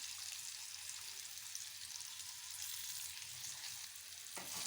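Chopped capsicum fries in a pan with chili powder and ground peanut, giving a faint but steady hiss and crackle of sizzling oil with soft stirring underneath.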